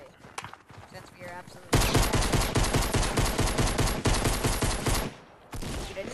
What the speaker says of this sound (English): I just got like 10 million shots on this guy with a pistol